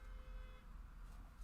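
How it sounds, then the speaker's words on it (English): A car horn gives a single faint, steady honk that ends quickly, heard over low background rumble. "Who is honking?"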